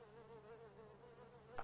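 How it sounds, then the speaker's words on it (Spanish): Flies buzzing in the video game GTA V: a steady, droning insect hum holds throughout, with a brief louder burst near the end. "Hay moscas por todos lados."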